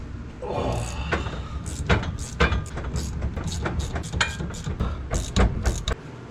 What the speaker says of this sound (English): Now to get that drive shaft out.